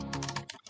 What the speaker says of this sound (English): I'm just mashing my keys.